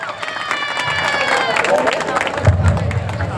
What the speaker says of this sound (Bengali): একটা জোরে হাততালি হোক।